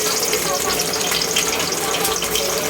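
Ginger sizzling loudly in a hot pan at the start of a sauté, a dense continuous close-up hiss and crackle with no pauses.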